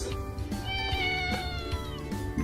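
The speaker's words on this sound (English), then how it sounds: "cat." A domestic cat meows several times in a row, with loud, close, drawn-out cries that rise and fall in pitch over faint background sound, and no one speaks.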